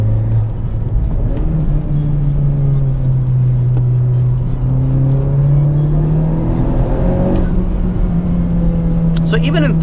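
A Honda Civic Type R pulls hard in third gear as its turbo and VTEC engine climbs. The steady engine drone rises in pitch, and someone talks over it throughout.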